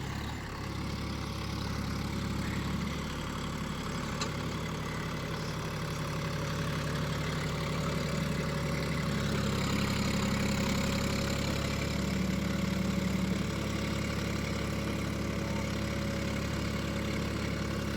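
John Deere 5050 D tractor in four-wheel drive, pulling a rotavator: a steady, loud diesel drone holds unbroken throughout, with a low, even engine hum and slight rises in load.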